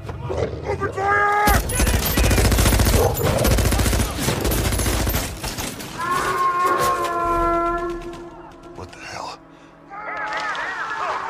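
Soldiers open fire in a monster-attack movie scene, with dense rapid gunfire and loud booming effects under shouted voices, then animal-like roars and calls amid the chaos.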